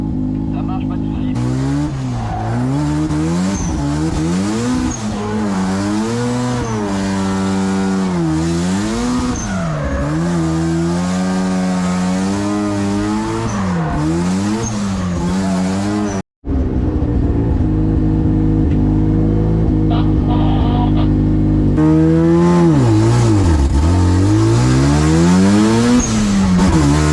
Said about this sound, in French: Con ese Mazda RX8, arranca hecha de freno a mano, mira cómo suenan los motores rotativos